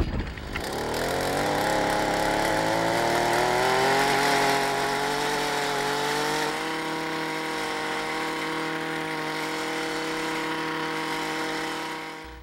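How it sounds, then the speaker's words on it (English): A small portable two-cycle tiller engine starts up and settles into a steady, loud buzzing idle with a strong droning whine. It runs continuously nearby for about twelve seconds with no talking. "what I have here is a handy dandy little portable tiller two-cycle engine, and I'll get it started"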